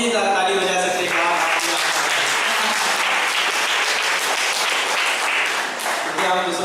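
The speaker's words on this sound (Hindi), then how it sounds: "आप अपने लिए ताली बजा सकते हैं" A church congregation at a Sunday evening service applauding first-time visitors, a loud, dense and sustained round of clapping, with a voice speaking briefly at the start and end.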